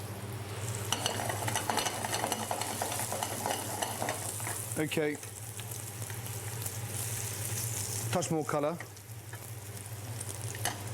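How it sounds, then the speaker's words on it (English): Part-boiled potatoes fry in olive oil in a non-stick pan, giving a steady close sizzle with stirring scrapes throughout, while someone speaks briefly over it. "And then the potatoes in a non-stick pan,"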